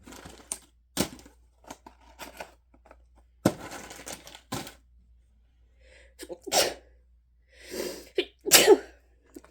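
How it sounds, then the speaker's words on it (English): One sharp sneeze bursts out, followed by sniffs and breathy, muffled noises, with quiet pauses between them. "It hurts to sneeze a little bit still"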